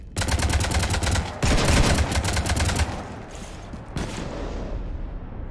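Rapid automatic gunfire from the Mass Effect 3 video game, fast evenly spaced shots in two loud bursts that cut off around three seconds, followed by a lingering rumble and a single later blast fading into low ambience.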